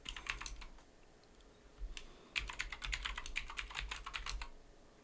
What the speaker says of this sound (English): So now when I type update